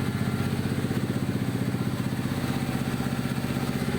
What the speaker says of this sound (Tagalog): pinapakinggan rin natin yung makina